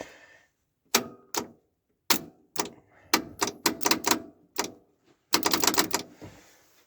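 The starter relay on a 1978 Dodge stepside pickup clicks close by, sharp metallic snaps coming singly and in quick bursts with short silent gaps between them.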